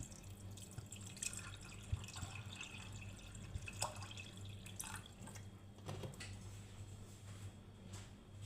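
Water is poured into a pot of Indian-style chana dal (split chickpea curry) seasoned with salt and turmeric, a faint trickling and dripping splash over a low steady hum, with no voices.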